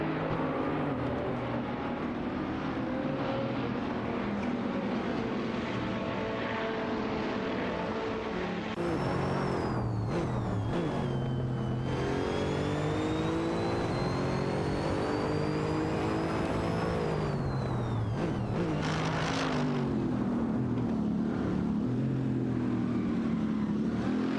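Video game race cars, a Renault Sport RS 01 and a Ferrari 488 GT3 battling wheel to wheel, engines revving loud and close with rising and falling gear-change pitch sweeps and brief dips on downshifts, no talk.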